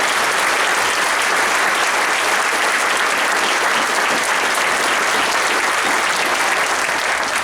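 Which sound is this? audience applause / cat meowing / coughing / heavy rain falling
audience applause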